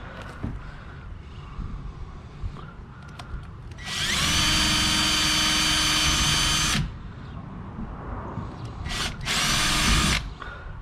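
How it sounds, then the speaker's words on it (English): A power drill whines loudly for about three seconds drilling into a kayak, then a second shorter burst follows, with quieter handling noises and taps in between. "And I'm going ahead and drill into them."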